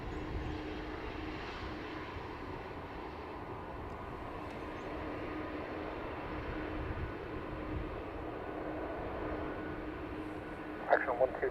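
A NetJets jet landing at Dublin Airport with its thrust reversers deployed, a sustained broad engine roar that holds steady throughout, heard from a distance, with a few brief clicks near the end.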